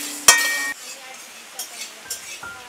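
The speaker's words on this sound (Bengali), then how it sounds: "শুকনো লঙ্কা দিয়ে দিলাম, গোটা ধনে 1 চামচ দিয়ে দেব, গোটা জিরে দিয়ে দেব, নাড়াচাড়া করে মশলাটা ভেজে নেব।" Dry red chillies, whole coriander and cumin are stirred in a pan while they roast. A sharp metallic clink comes first, then soft scraping and a few light taps, all fairly quiet with no talking.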